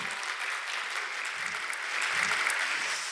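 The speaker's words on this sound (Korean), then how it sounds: "다시 한번 서정주 회장님께 큰 박수 부탁드리겠습니다" Sustained applause from a conference audience for a keynote speaker at a biotech conference, an even, dense wash of clapping holding steady and swelling slightly toward the end.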